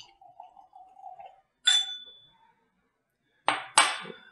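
Glencairn whiskey glasses clinking together at home, a few sharp bright chimes, one ringing tone then two quick clinks near the end, close and clear after a soft low murmur.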